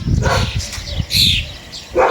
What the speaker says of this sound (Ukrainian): Собаки спокою не дають.